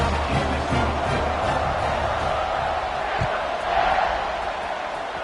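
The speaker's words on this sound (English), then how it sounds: "this crowd is buzzing after that last score" Loud, steady roar of a football stadium crowd buzzing after a score, a dense wash of cheering and murmuring voices from all around.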